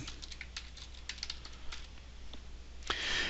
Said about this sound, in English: so I'm going to type that here